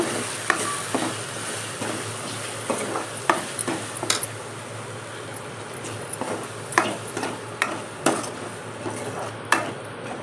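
Chili powder stirred into a raw plantain curry in a pan, a soft frying hiss under a series of distinct metal spoon taps and scrapes against the pan at irregular intervals.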